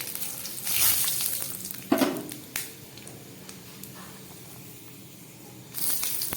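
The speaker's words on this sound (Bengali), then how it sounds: "তেলটা গরম হয়ে গেছে। 5 ফোড়ন দিলাম। দিয়ে দিলাম তেজপাতা," Bengali five-spice and bay leaves hitting hot oil in a pan, a close sizzle that flares in bursts with a few sharp clatters, then settles to a softer frying hiss before swelling again.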